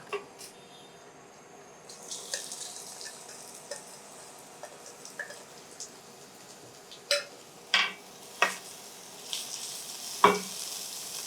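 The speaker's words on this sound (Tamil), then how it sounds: "இப்போ வெங்காயம் வந்து சுமாராக வதங்கணும் ரொம்ப ப்ரௌனாக ஆகக்கூடாது" Thinly sliced onions frying in a pan for Arcot-style chicken curry, a faint steady sizzle broken by sharp spoon stirs and pot clinks.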